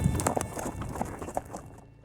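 Horses loping on desert ground at a dude ranch, their hoofbeats falling in quick, uneven rhythm at moderate distance, fading toward the end, with faint voices in the background.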